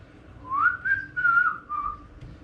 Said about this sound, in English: You know, whistle while you work.